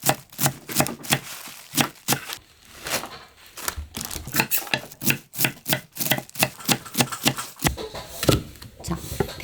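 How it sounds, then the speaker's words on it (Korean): A knife chops mustard greens into short pieces of about 2 cm for kimchi, producing quick, rhythmic, close cutting thuds in a steady series on a board. "갓은 이렇게 대가리를 자르고요. 한 2cm 길이로"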